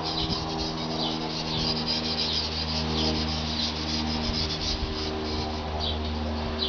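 Steady abrasive rubbing across a rusty sword blade to work out scratches, a continuous close scraping hiss with no pauses and no talking.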